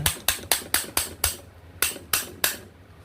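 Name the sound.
hammer tapping a fan part into place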